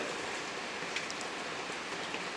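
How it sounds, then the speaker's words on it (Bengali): Steady rain falls at a farm beside a banana grove, making a dense, even hiss of drops hitting surfaces with no pauses. It sounds moderately close and continuous and is heard alone. "এখনও বৃষ্টি পড়তেছে"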